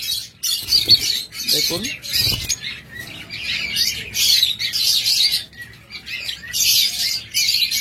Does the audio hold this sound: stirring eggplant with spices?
no